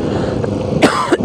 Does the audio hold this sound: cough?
yes